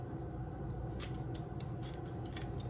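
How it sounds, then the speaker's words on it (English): Scissors snip through a squirrel's rib cage at the bottom of the last rib, a few crisp cuts and scrapes close by over a steady low kitchen hum. "I am going to just cut off these ribs"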